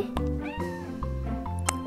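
A cat in the Toca Life video game meows repeatedly, several short clear meows in quick succession, close and prominent.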